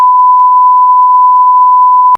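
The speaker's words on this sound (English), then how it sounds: "Just have one of the channel errors here. Just like the beep." A single steady electronic beep from a channel error, loud and unbroken for about two seconds before cutting off abruptly.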